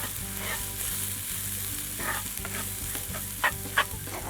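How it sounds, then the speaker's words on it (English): White quinoa stirred in a pan with softened vegetables and oil, a steady sizzle broken by regular scraping strokes of the spoon, with two sharp clinks near the end; no talk. "I'm going to stir this up just to get it coated a little bit with the vegetables and the oil"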